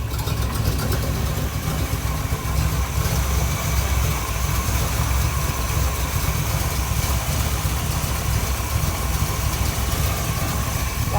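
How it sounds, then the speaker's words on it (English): A 1965 Chevrolet Corvette Stingray with a 327 V8 idles smoothly, giving a steady, close, deep rumble with an even pulse and no revving across the whole stretch. "Got the 327 in it, running nice and smooth."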